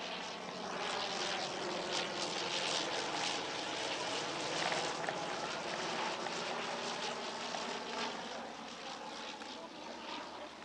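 A First World War aircraft flies at the Shuttleworth Family Airshow, its propeller engine droning steadily overhead for around ten seconds, fairly loud and slowly fading near the end.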